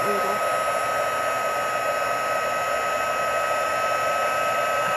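Heat tool blowing a steady, loud whirring hiss while melting white embossing powder on a winter card, continuous and unbroken throughout.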